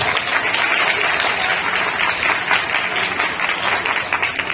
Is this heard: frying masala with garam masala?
no